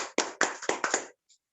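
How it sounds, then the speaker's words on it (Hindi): Clapping welcomes guests at a women's day business presentation, several loud bursts from a few pairs of hands over about a second, then fading to silence with one faint tap. "मैं उनका जोरदार तालियों के साथ स्वागत करती हूँ।"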